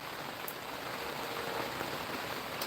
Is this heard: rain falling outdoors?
yes